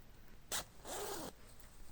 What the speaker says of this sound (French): On va voir si la fermeture éclair, elle marche.